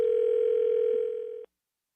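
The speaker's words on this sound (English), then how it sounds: "I'm getting a dial tone or a ringy dingy." A steady telephone dial tone comes through a radio call-in line, a single continuous hum lasting about a second and a half before cutting off abruptly, heard alone.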